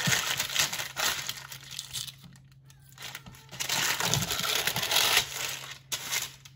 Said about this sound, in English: Peel off the paper.